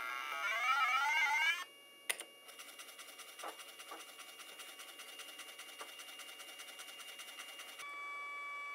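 Old 286-era computer's floppy disk drive reading a cheap late-1990s disk: close, buzzing stepper-motor whines with rising pitch sweeps, a sharp click, then rapid rhythmic chattering seeks and a steady tone at the end.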